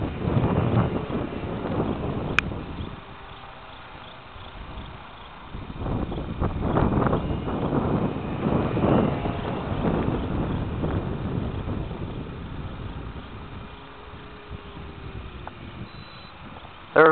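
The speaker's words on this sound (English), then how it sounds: "it is getting gusty. It's not truly windy, but it's just gusty enough to bounce me" Gusty wind buffeting the microphone in rumbling bursts that rise and fall while flying a Dragonfly Mk2 model airplane outdoors, with a faint steady engine-like hum in the background.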